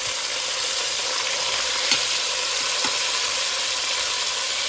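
A chuck roast browns in a hot pan with a steady, even sizzle and fry hiss throughout, broken by two soft faint ticks of movement, with no voices.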